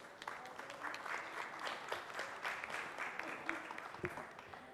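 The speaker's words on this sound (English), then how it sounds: "I request the audience to please give a round of applause to all our speakers." An audience at the Wellness India 2018 Expo gives the speakers a round of applause, steady dense clapping from a hall crowd, moderately distant and even in level, with a few sharper claps standing out.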